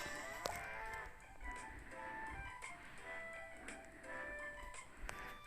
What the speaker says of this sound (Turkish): bunlar inek